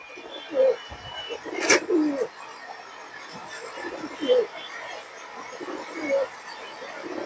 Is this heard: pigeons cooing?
yes